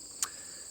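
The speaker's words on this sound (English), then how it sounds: "I can hear the crickets at night," A single short cricket chirp sounds at night near a regenerative homestead tent, a sharp bright pulse over a steady faint insect drone and quiet background.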